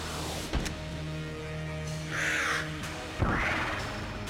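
Two harsh, raspy squawks from the Gatling Gull boss bird in Enter the Gungeon, set apart by a short pause over a steady game hum, with sharp bangs near the start and at the second call.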